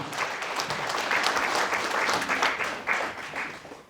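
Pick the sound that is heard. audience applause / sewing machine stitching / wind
audience applause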